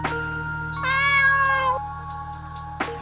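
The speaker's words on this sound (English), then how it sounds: "Black cat." A black cat gives a single clear, drawn-out meow, close and fairly loud, with a brief faint chirp before it and a sharp click near the end over a low steady hum.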